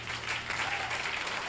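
A church congregation applauding, dense continuous clapping filling the room at moderate level, with no speech over it.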